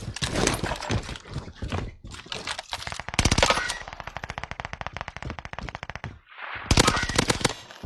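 Rapid automatic gunfire in the Warzone battle royale game, long sustained bursts with close, loud rattling volleys, brief pauses, then another sharp burst near the end.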